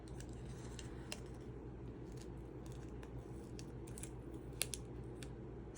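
Paper snipped with scissors for a blue-themed craft project, a series of light, quiet cuts spread across a low steady background hum.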